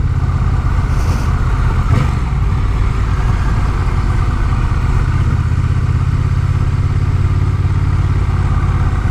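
A Honda Rebel 1100 cruiser motorcycle hums with a steady engine drone as it is ridden, the tone holding fairly even and loud throughout without speech.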